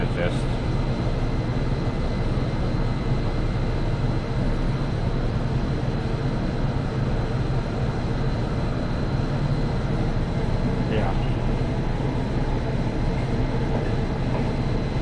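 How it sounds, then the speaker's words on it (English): Low, steady rumble of a Hudson-Bergen Light Rail train rolling in and idling at Tonnelle Avenue station, with a constant hum and a faint squeal partway through. "the train just got into the station"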